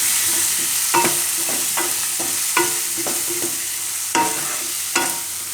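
Spices and red chili tempering on low heat in a pan for buttermilk roti, a steady sizzle broken by several sharp scrapes and taps of a stirring spoon.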